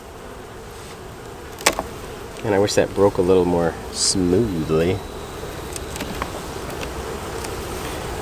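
Constant low buzzing of many honey bees close by around a hive, with someone speaking briefly over the insect hum.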